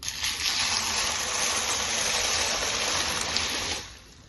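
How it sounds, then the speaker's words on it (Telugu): Water pours steadily from a vessel into a bowl of dry black-eyed peas being set to soak, a continuous rushing splash that holds evenly for about four seconds before tapering off. "దీనిలో వాటర్ పోద్దామండి."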